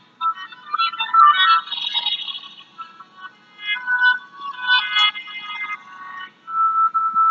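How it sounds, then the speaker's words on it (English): A cell phone ringtone plays a bright electronic melody in repeated phrases, loud and close, with brief gaps between bursts and nothing else heard. "She wakens to the ringing of her cell, soaked in sweat."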